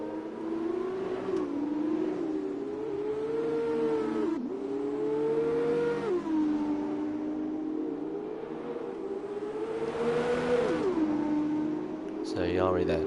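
Race car engines in the GP2 sim racing game at Abu Dhabi, a steady high whine rising and dropping through gear changes, with a commentator talking over it throughout.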